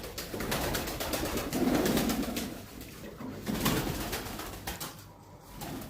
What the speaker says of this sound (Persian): نگاه کن خوش به حال این کبوترها، عاشقانه رفتار میکنه با هم دیگر.